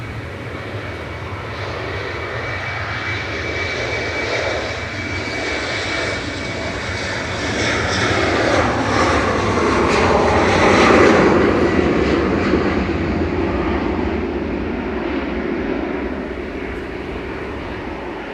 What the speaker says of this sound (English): Finnair departing now, back to Helsinki.